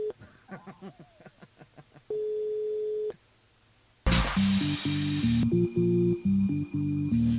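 Telephone tones ring out as a radio show dials a listener: rapid dialing beeps, a steady held tone, then a burst of static and a repeating busy-style signal, all fairly loud without talking.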